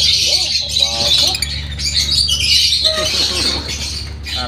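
Pet birds, including a pure green one, squawk in harsh repeated bursts close to the microphone amid a busy chorus of chirps, with a person talking intermittently over them.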